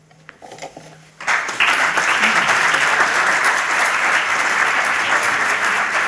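An audience at an academic ceremony for Saint Thomas Aquinas breaks into applause after a brief quiet moment, the clapping starting abruptly and holding as a loud, dense, sustained wash of hands.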